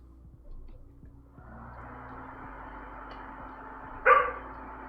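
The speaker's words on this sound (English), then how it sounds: "what's the pup barking at? Pup's doing a bark." A pet pup in a home kitchen gives a single short, sharp bark near the end, heard fairly close over a low steady hum, with no talking.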